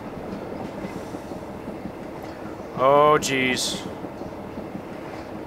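A train rolls along steadily in The Polar Express video game, a constant low rumbling clatter, while a voice speaks briefly over it near the middle.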